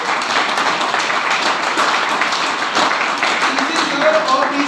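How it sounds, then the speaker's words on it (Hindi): An audience claps at a business seminar, a dense and steady wash of applause that holds for several seconds, with voices mixed in. "एक बार जोरदार तालियां टीसी सर"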